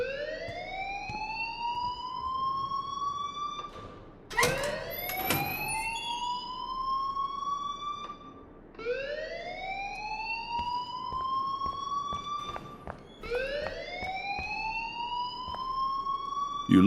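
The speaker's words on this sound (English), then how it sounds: "please turn off that alarm since that's your job" Rising, sweeping electronic alarm in the Life Is Strange video game wails in repeated cycles of about four seconds, loud and continuous with no talk over it.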